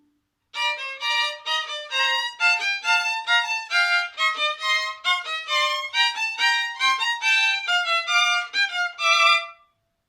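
Two interwoven melodic lines from a Bach solo sonata play together on a plucked keyboard-like instrument, notes bright and evenly paced, alone with no talking.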